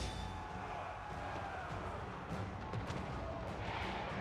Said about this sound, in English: In range! Fire! Fire! Come on, handgunners, you can do it.